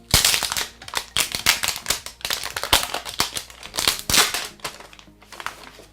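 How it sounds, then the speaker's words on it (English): Crinkly plastic protective film being peeled off a Nubia Red Magic 3 gaming phone, a dense run of close, loud crackles and crumpling snaps lasting several seconds with no talking. "Let's go ahead and take off the plastic."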